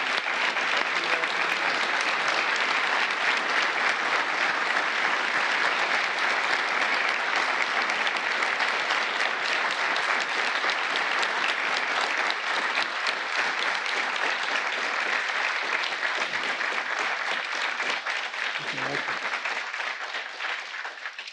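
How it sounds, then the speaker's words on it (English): Sustained applause from an audience at a White House Medal of Valor ceremony: a dense, even wash of many hands clapping for about twenty seconds before beginning to taper at the end. "let's give one last big round of applause to the recipients"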